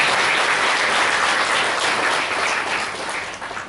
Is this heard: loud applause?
yes